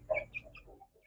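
Young chicks that had been fighting give a few short soft clucks and chirps close by, a quick uneven burst of little calls over about a second, with no talk.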